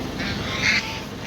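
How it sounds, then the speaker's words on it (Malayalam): Ducks quack from a dense flock drifting along a small canal in Kerala, a busy overlapping chatter of calls heard close and fairly loud. "പതിനായിരക്കണക്കിന് താറാവുകളാണ് ഈ ചെറിയ തോട്ടിലൂടെ ഒഴുകി നടക്കുന്നത്"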